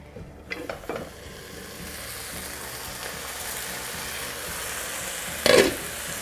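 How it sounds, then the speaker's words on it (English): Vegetable pulao simmers in a kadhai over low-medium heat, giving a steady soft sizzle and low bubbling hiss throughout, with a couple of brief clinks near the start and a short louder scrape of stirring toward the end. "Now I'm going to cook this on low to medium heat for 15 to 20 minutes"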